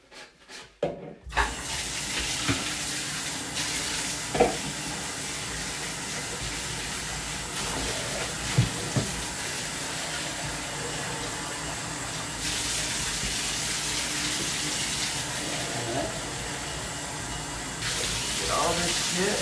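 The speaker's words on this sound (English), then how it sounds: "Rinse the sides of the tub walls that I just scrubbed." Tap water runs steadily into a bathtub while its tiled walls are rinsed after scrubbing, a continuous hiss with occasional splashes and knocks throughout.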